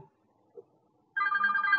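A mobile phone places an outgoing call from a hidden, private number. After near silence, a steady electronic ringback tone starts partway through and continues clearly to the end, with no voices.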